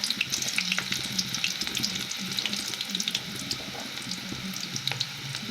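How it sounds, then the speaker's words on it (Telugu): Chopped onion fries in oil with cumin and mustard seeds, giving a steady sizzling hiss dotted with small pops and ticks throughout, close and moderately loud, with no talking. "దాంట్లో కొద్దిగా నూనె వేసుకొని జీలకర్ర ఆవాలు వేగిన తర్వాత కట్ చేసుకున్న ఉల్లిపాయ"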